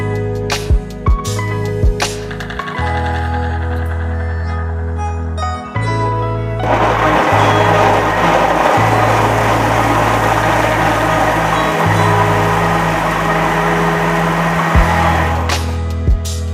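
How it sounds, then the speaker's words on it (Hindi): A blender motor whirs and grinds loudly in bursts on mango pieces, starting and stopping several times, then runs steadily with a dense churning roar. "अब मैं आम को ब्लेंडर करने लगी हूँ।"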